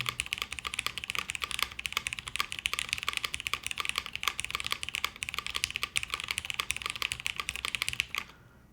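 Steady, rapid clacking of keys on a mechanical keyboard, close and continuous for several seconds before stopping abruptly near the end.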